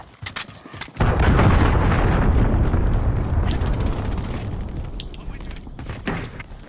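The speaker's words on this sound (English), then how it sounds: "Allied cruise missile away." Cruise missile explosion in Call of Duty: a brief clatter gives way to a sudden, loud booming blast that rolls on with a long, rumbling decay and scattered debris crackles.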